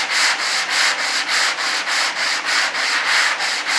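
Hand sanding on an RC jet B-1 bomber model, a steady back-and-forth rasp in about ten even, rhythmic strokes, close and loud with no talking.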